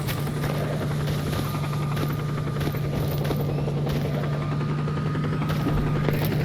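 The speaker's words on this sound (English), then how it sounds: "So yeah, the helos are moving on like normal." Helicopters flying in the video game Stalker Anthology, a steady continuous rotor drone with a constant hum, sustained and moderately loud throughout, no voices.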